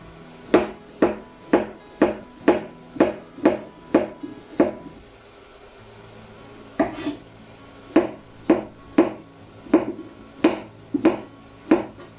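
A knife slices thinly through a courgette on a board for one-pot pasta, giving crisp, evenly spaced chops, a brief pause, then another run of regular cuts close by.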